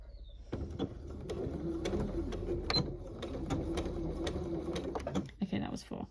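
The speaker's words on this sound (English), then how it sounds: "So all I'm going to do is sew a little bit of a line, just maybe 3 stitches forwards" A Janome sewing machine fitted with a rolled hem foot runs a short burst of stitches, its fast needle clatter steady and close for about five seconds before easing to a stop.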